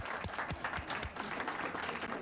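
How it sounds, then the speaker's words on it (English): An audience applauds a woman as she is introduced at an esoteric health and healing talk, steady dense clapping filling the whole stretch at an even, moderate loudness with no speech over it. "Please give her a round of applause"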